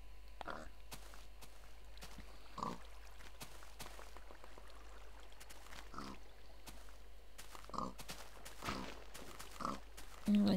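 Short pig grunts and oinks from a video game pig come in scattered bursts, moderately close, over a steady low background hum with light footstep-like taps.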